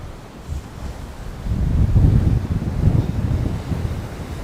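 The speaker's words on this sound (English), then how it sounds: "It's just very windy." Strong gusting wind before Hurricane Milton in Miami roars across the microphone, building into heavier, sustained buffeting after the first second and a half, with a low rumble and no voices.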